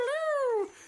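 A voice imitates a dog with a single drawn-out whimpering howl. It rises and then falls over about half a second and is close and clear.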